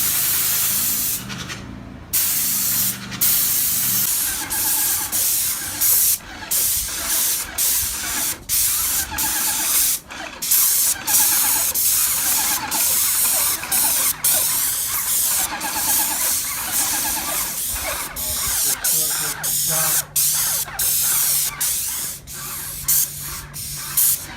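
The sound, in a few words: spraying sealer onto a concrete overlay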